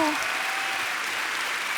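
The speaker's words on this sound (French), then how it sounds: "On l'applaudit encore" A television variety show audience applauds again, a steady, full wash of clapping that holds evenly after a brief voice at the start.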